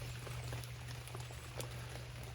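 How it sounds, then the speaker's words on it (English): Light, steady drizzle falls on a tree overhead, a soft continuous patter with scattered faint drops, heard alone against a low background hum. "all the while it's just drizzling. It's just that annoying drizzle, you know, that won't stop."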